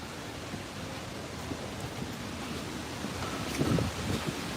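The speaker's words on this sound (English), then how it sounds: "It's like super windy, and the leaves are being brushed" Steady wind blows across the microphone outdoors on a street in Madrid, with soft rustling of leaves rising briefly toward the end; no voices.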